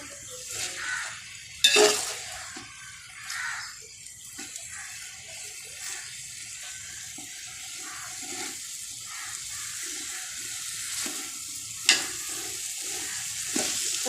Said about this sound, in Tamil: சிக்கன் கறி வந்து நல்லா ஒரு 5 நிமிஷம் அந்த எண்ணெயிலே வதக்கி விட்டுட்டேங்க